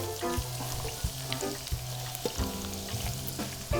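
Vegetables for yakisoba fry in a pan, a steady close sizzle broken by several sharp clatters and scrapes as they are tossed in and spread.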